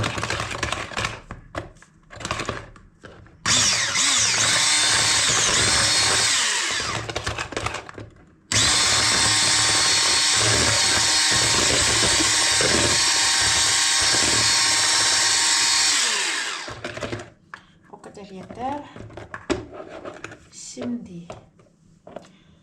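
An electric mixer whirring loudly in long bursts as it mixes egg into wet cake batter, stopping briefly in between, with someone talking around it.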